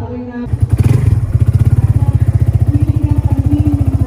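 A Kawasaki Barako motorcycle engine thumps close and loud on a rural road, a quick rev at the start settling into a steady, fast single-cylinder putter throughout.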